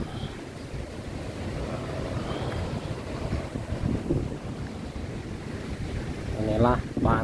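Steady roar of wind and surf at Pantai Serau beach in Pacitan, a constant wash of waves with gusty buffeting on the microphone throughout, and a brief faint voice near the end.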